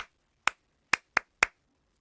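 Four sharp hand claps in an uneven rhythm, struck for a clap-back game with a home chorus group, each clap crisp and close with silence between them.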